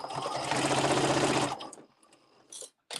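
A sewing machine runs steadily along the edge of a Luxe Cuddle plush Fair Isle wrap, a loud, continuous whir for about a second and a half before stopping, followed by a few faint handling clicks.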